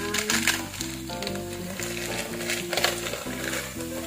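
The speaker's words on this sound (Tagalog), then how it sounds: "Ayan, fry na din yung patatas." Diced potatoes frying in a pan for a Filipino corned beef with potato and peas dish, giving a steady close sizzle with occasional stirring scrapes, partly masked by a louder melodic music track throughout, with no talking.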